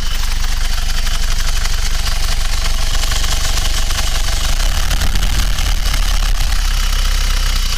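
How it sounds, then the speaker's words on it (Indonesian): A 2012 Isuzu Panther 2.5 diesel with a 4JA1-L engine and manual transmission runs at slightly raised rpm, a loud, dense, continuous clattering roar heard up close with no voices. "Kita naikkan dulu RPM-nya dikit ya."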